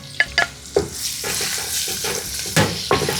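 Chopped garlic and ginger hit hot oil in a pan and sizzle steadily, with several sharp spatula scrapes and clinks as the mixture is stirred, close and clear with no talking.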